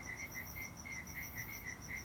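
Evening crickets chirping in a steady, fast pulsing rhythm, a continuous insect chorus outdoors with a faint background hiss, no voices.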